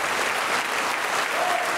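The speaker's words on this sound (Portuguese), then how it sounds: "vamos aplaudir ao Senhor Jesus por cada vida que está chegando" A church congregation claps in a steady, dense wash of applause, moderately loud and continuous throughout the short burst, with no voices standing out.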